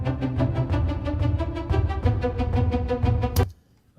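Rhythmic music with a steady beat and tonal layers, playing loud throughout before cutting off abruptly near the end, followed by near silence.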